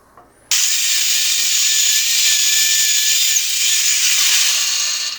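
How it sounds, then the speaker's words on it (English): A drill bores through 3/8-inch steel plate, a loud continuous high-pitched grinding whine with a steady cutting tone that starts abruptly and runs unbroken for several seconds before easing off. No speech is heard. "That drilled through that 3/8 plate like it was nothing."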